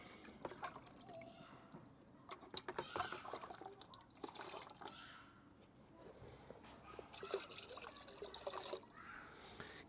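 Water trickles and splashes in uneven bursts as it is poured into a Givi Canyon GRT722 motorcycle dry bag, filled to about 10 liters; fairly faint and close, with soft handling noises between pours.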